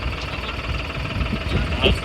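A tractor engine runs steadily in a farm field during groundnut sowing, a low continuous rumble with faint vibration throughout, moderately close, with a voice talking over it.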